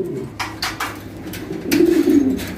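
Fancy exotic pigeons coo in a pigeon loft, several low throaty coos repeating close by with a few sharper bursts and faint wing movement in the background.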